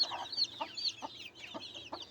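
A chicken clucks in a rapid, cackling rhythm, with several short bursts close by amid chirpy background birds.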